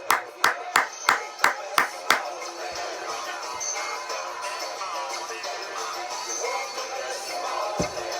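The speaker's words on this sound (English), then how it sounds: "Let's clap for it." Seven sharp, evenly spaced claps ring out close and alone, celebrating the Kansas City Chiefs reaching the playoffs. A quieter stretch of room sound follows, with faint talk in it.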